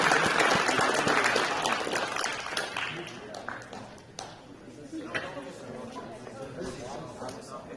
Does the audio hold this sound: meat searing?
no